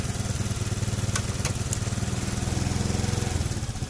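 A Honda Scoopy or Beat injection scooter engine idles on its own with a fault in the TPS sensor, a close, steady low putter with rapid regular pulses and a few faint clicks partway through.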